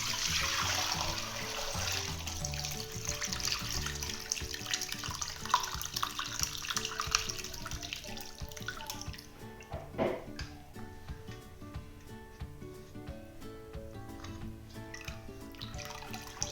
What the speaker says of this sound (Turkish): Sirkelerimizi şöyle süzüyoruz.